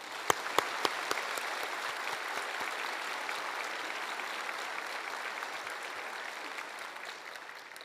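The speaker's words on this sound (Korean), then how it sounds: "지구촌에 따뜻한 박수로 모시겠습니다." A church congregation gives warm, steady applause, a dense wash of many hands clapping that opens with a few sharp nearby claps and then slowly fades, heard without speech.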